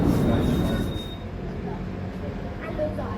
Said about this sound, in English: It's Friday morning and the tram's pretty full.